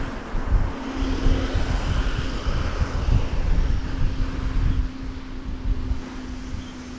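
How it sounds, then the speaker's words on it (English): An Airbus A319 rumbling at DFW Airport, a steady broad roar with a low engine hum, moderately loud and fairly distant, mixed with wind buffeting the microphone and easing slightly toward the end. "It's an Airbus A319."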